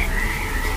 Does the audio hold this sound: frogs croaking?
yes